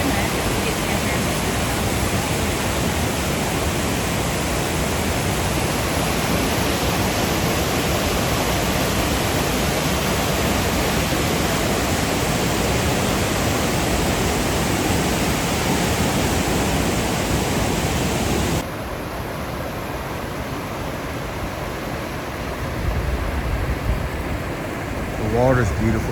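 Waterfall at Rock Island State Park, a steady, loud broadband rush of falling water that fills the scene, softening abruptly near the end as the position shifts, with a few voices faintly audible underneath.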